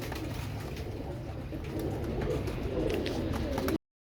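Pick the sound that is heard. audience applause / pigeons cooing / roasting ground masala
pigeons cooing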